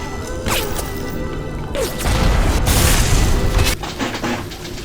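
A rocket explosion in the first-person shooter Bioshock Remastered, a loud, dense rumbling blast with crashing debris that swells around the middle and holds for several seconds over continuous game noise.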